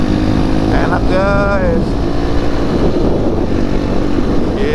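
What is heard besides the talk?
motorcycles riding on a road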